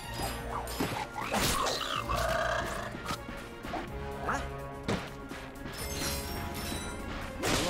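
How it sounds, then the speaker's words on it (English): Crates smashing in the Ratchet and Clank video game, a run of sharp cracking breaks and thwacks at irregular intervals over game music and effects, loud and close. "Look at him smashing crates."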